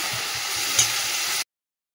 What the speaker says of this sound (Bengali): চল মশলাগুলো কষিয়ে নিই, এদিকে মশলা কষানো হচ্ছে।